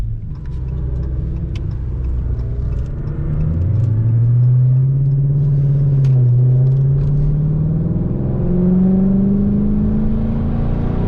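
Mopar car engines at a car meet rev up in sustained, climbing pulls, loud and close, rising in pitch over several seconds with a deep rumble underneath.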